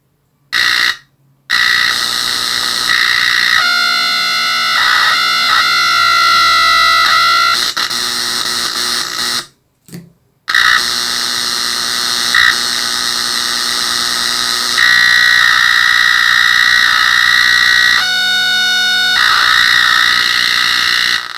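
A loud electronic siren tone from a basic oscillator circuit warbles and sweeps in pitch, cutting out briefly twice before resuming, harsh and buzzy throughout.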